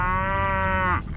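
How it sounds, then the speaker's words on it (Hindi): A buffalo moos once, a close, loud, tonal bellow that holds steady for about a second before breaking off abruptly. "भैंस।"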